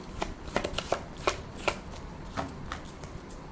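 Angel blessing oracle cards being shuffled by hand, a run of crisp flicking card slaps at an irregular rhythm, close and fairly clear with no talk.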